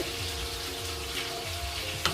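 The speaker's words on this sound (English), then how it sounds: "So we're going to add a little bit more water" Water is poured into a cooking pot while rice and peas are prepared, a steady soft splashing and trickling at low level. A brief clink comes near the end.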